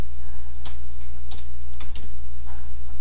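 Keys clack on a computer keyboard as a web address is typed into a browser, several quick close taps in short irregular bursts over a low steady hum.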